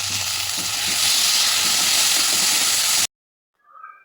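Onion and tomatoes sizzling hard in a hot pan for a pigeon-pea amti, a loud, dense, close hiss that runs steadily for about three seconds and then cuts off abruptly.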